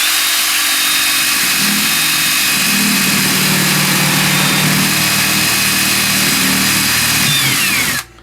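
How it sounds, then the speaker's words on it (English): A power drill with a sharp bit runs slowly through soft plastic while a poultry waterer is being made. It gives a loud, continuous whirring drone that holds steady for about eight seconds, then cuts off abruptly. "The reason I don't drill through it fast is because I am purposefully slowing it down."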